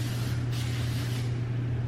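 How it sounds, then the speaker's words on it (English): A single sustained hiss of heat protectant spray misted onto hair lasts nearly two seconds, close and fairly soft, over a steady low electrical hum. "spray some heat protectant, of course,"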